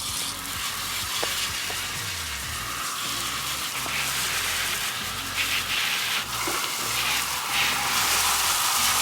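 Spray hisses steadily over a Jamis Hardline bicycle chain being cleaned, a continuous sizzling wash with faint ticking underneath from the moving chain, close and moderately loud, no talking.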